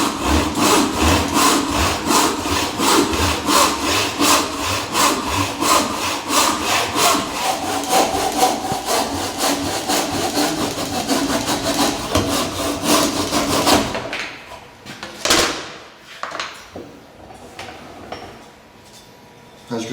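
Hand saw cutting timber clamped in a vise, cutting with the grain on a vertical line for a tee halving joint; steady, loud rhythmic back-and-forth strokes for most of the clip, then stopping, followed by a few scattered knocks and handling sounds.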